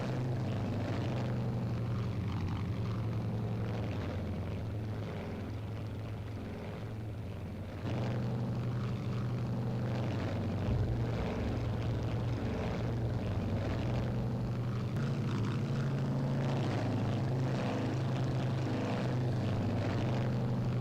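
A B-26K Counter Invader propeller aircraft taxiing down a runway in the video game Strike Fighters 2, a steady loud drone of engines and propellers with shifting pitch and a brief change partway through, no talking.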